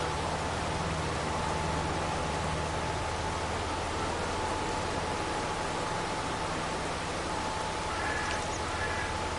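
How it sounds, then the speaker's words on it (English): Steady rain falls in Farming Simulator 2, a dense, even hiss that lasts the whole time with no voices over it. "Kind of a gloomy day, very rainy."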